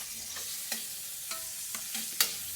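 Squid adobo with tomato being stirred in a pan, a soft continuous sizzle broken by a handful of distinct utensil scrapes and clinks, close by and fairly quiet, with no talking.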